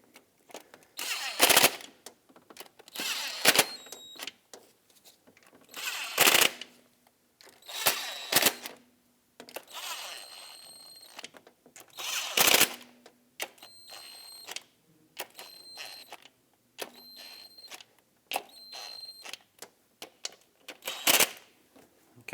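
Valve cover bolts on a 2000-2006 Honda CR-V being snugged down in a cross pattern with a hand ratchet, giving sharp repeated clicking bursts in short runs separated by pauses, close and fairly loud.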